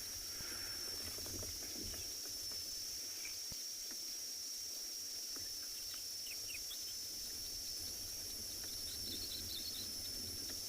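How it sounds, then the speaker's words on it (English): Kalahari scrub robin singing in South African bush at morning, faint varied chirps and whistled phrases amid a steady insect hum and other distant birds. "Can hear Kalahari scrub robin."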